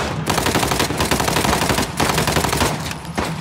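Rapid bursts of automatic gunfire from a weapon in Uncharted: The Lost Legacy, loud and close, firing in several strings separated by short pauses, with no talking.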